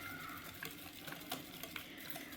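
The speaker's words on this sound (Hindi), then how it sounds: "तो इसको मैं करूँगी अच्छी तरह से मिक्स" Sugar being stirred into a mixture, soft repeated scraping and light clinks of a spoon against a bowl, faint and close, with no talking.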